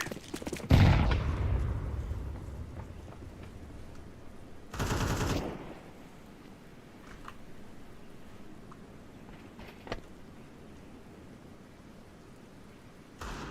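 Grenade blasts and gunfire in a shooter video game: a loud burst near the start, a second heavy blast around the middle, then sparse sharp shots over a low rumbling background.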